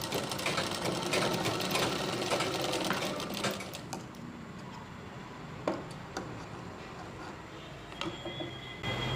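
A sewing machine stitches a puff sleeve in a fast, close mechanical whir that runs for about four seconds, then stops, leaving scattered ticks and clicks of handling the fabric.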